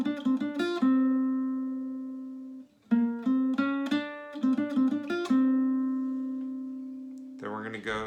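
A guitar picks the Foster's Home for Imaginary Friends theme note by note, close and alone, with rhythmic plucked phrases, sustained ringing notes and short pauses, ending on a quick strum.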